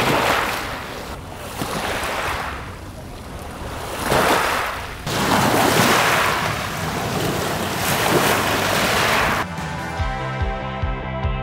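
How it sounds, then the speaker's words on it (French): Ocean waves roll onto a beach, surging and breaking in loud swells several seconds apart, with gusty wind buffeting the microphone before a brief tonal change at the end. "enregistrant le son des vagues"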